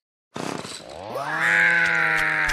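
A motorized saw in a video game starts up abruptly with a sputtering pull, then revs into a loud, sustained whining drone that rises in pitch and holds steady.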